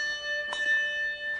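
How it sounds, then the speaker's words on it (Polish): A single handbell is struck once and rings on with a sustained, clear metallic tone that lingers steadily through the moment, alone without talk. "Potem musiałam się nauczyć dzwonić."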